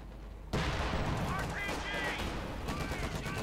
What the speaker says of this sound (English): Bit of bazooka fire there.